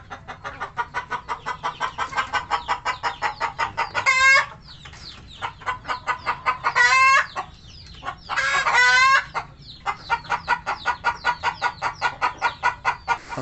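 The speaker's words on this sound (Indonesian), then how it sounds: "ini nih ayam Elbanya baru datang" Elba chickens in an opened transport crate cluck in a steady rapid rhythm, with several louder squawking outbursts breaking in, close and continuous over low background noise.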